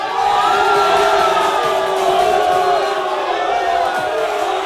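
A crowd cheers and shouts at a Cebu boxing event, with loud overlapping whoops and yells that carry on continuously. A voice talks through the noise.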